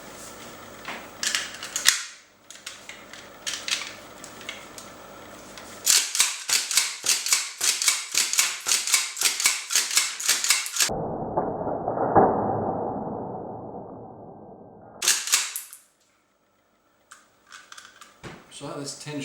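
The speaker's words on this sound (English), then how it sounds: "my finger will be up here at the bar, so I can cycle through the rounds." A Remington 7615 pump-action rifle is cycled repeatedly, each stroke giving a sharp metallic clack as a round is chambered and ejected, in several rapid rhythmic bursts, close and loud, with a short rumbling pause midway.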